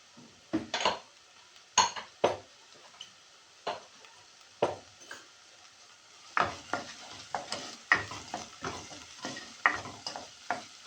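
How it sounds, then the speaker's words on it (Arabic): A spoon stirs onion frying in a pot, giving repeated scraping clinks and stirring strokes, scattered at first and then more frequent, over a faint sizzle. "نبقى نحركو هاد البصله مزيان"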